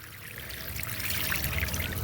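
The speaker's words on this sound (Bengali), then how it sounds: "দেখুন একেবারে পট ভরে জল দিলাম" Water pours steadily into a potted plant being repotted, a continuous close trickle and splash filling the pot, growing slightly louder as it goes.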